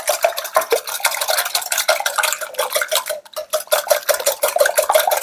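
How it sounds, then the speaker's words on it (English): Eggs whisked briskly in a bowl for a farmhouse breakfast casserole, a rapid, continuous clatter of a metal whisk against the bowl, close and loud with no talking. "And I want to whisk these up pretty good."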